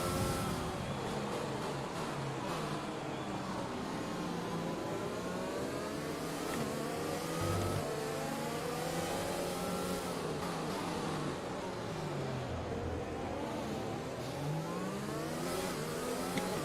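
Race car engine in an F1 video game, Bahrain short Grand Prix, played on a Fanatec wheel: continuous loud revving climbing and dropping through the gears in repeated sweeps, no talking over it.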